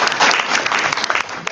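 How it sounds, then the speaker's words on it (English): An audience at a technical communication panel claps for the panelists, a short dense burst of applause that holds steady and then thins out. "So let's give our panelists a hand"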